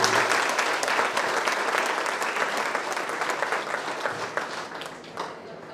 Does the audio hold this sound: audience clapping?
yes